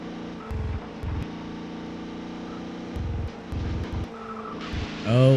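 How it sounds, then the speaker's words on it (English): Race car in TOCA World Touring Cars spinning off onto gravel: a droning engine note in fifth gear with repeated low rumbling bursts of tyres over gravel, ending in a loud rising engine rev. "the car decides to spin because I went over the gravel instead"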